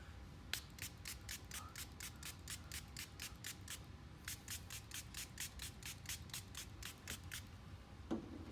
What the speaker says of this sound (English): our apply fluid is sprayed